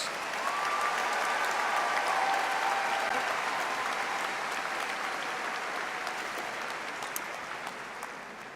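An audience at a spring commencement ceremony applauds doctoral graduates with dense, sustained clapping that starts loud and gradually thins and fades over about eight seconds, with a faint tonal hum beneath early on.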